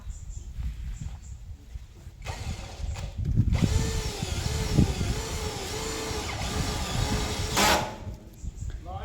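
A nail gun drives fasteners into wood siding boards, firing a few sharp, separate bangs over steady workshop noise, with faint voices nearby.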